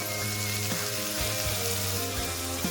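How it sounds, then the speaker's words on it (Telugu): Capsicum pieces frying in a pan with ginger-garlic paste, giving a steady sizzling hiss throughout, close and fairly loud, with faint clinks of stirring and no talking. "ఇలా వేసుకున్నాక ఇవన్నీ వేయించుకోవాలి మనం."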